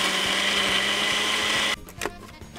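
A blender whirs loudly, blending a watermelon drink with ice in a dense, grinding roar, then cuts off abruptly, leaving a brief clatter and quiet.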